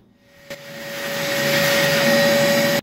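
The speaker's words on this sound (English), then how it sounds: "I'm gonna vacuum out what pieces I can so less fall into the crankcase" A vacuum cleaner sucks debris out of a motorcycle engine cylinder during a Blackhawk 125 rebuild, starting with a click and then rising to a loud, steady close-up roar with a high whine.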